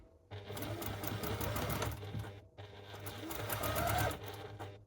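A sewing machine stitches together the joints of quilt binding in two close, rapid whirring runs separated by a short pause, loud and steady.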